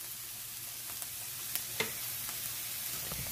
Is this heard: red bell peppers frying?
yes